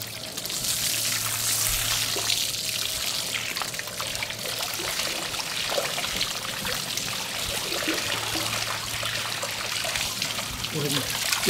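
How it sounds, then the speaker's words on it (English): Running water rinses blood off a fish fillet, a continuous close trickle and splash from a tap that flows steadily throughout. "so I'm going to go ahead and rinse that off of here."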